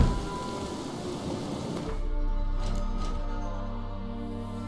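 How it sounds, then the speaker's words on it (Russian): Steady video game rain patters in a continuous wash, with a low rumble underneath that deepens partway through, at a moderate level and with no talk. "Серьезно, дождь."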